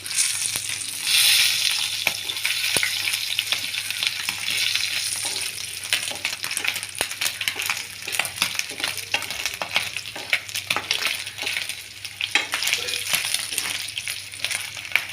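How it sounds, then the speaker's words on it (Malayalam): Dried fish sizzles and crackles steadily in a hot pan with dried red chillies, with scraping and stirring sounds as pieces are turned, close and fairly loud. "നമ്മൾ ഈ മീനെ തിരിച്ച് മറിച്ച് വിട്ട് വറുത്തെടുക്കണം കേട്ടോ"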